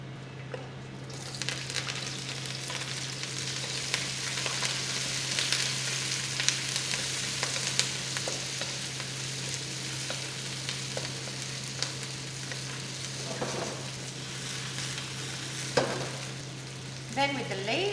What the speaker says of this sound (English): We're going to cook off the stems first for about 30 seconds, and then we'll add our leaves. You're just going to cook off in a neutral oil.